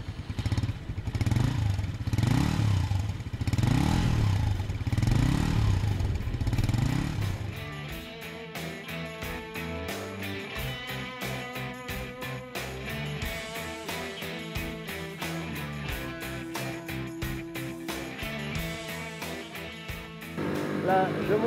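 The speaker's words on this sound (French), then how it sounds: "la mise en route est alors immédiate pour entendre une belle sonorité rauque et valorisante sortir du silencieux saucisson" A Bullit Cooper motorcycle engine fires up and idles with a hoarse, throaty note through its sausage-shaped silencer, loud and close, then blips and climbs through the gears with a busier, pulsing exhaust.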